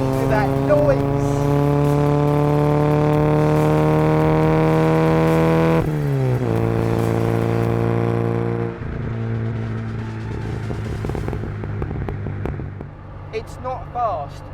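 A 1990 Rover Classic Mini with a 1275 engine drives under hard acceleration, its loud, buzzing engine holding steady and then dropping pitch at each gear change, with talk over it.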